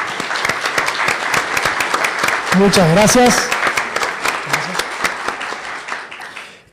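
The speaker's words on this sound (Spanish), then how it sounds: "un fuertísimo aplauso para este panel y la anterior" A seminar audience at a corporate social responsibility panel breaks into loud, sustained applause, a dense wash of clapping that fades out near the end while a voice speaks briefly over it.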